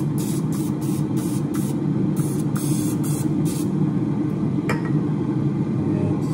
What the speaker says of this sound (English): So let's spray down the waffle maker.